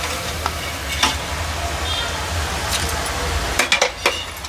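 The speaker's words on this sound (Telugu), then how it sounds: "మనకి మురుకు వేగినట్టు ఇప్పుడు చూడండి ఇట్లా" Urad dal murukulu deep-frying in hot oil, a steady close crackling sizzle throughout with a few sharp clinks of a metal utensil against the pan near the end.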